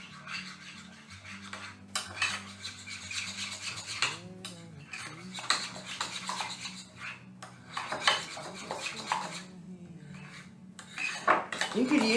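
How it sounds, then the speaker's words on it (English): A metal spoon stirs horseradish dipping sauce in a dish, producing repeated scraping and clinking bursts with short pauses, fairly close and steady across the stretch. "I'm going to stir that up."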